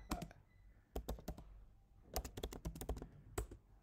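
Keys clatter on a computer keyboard as a terminal command for running a Django project server is typed, in quick bursts of close, crisp clicks separated by short pauses.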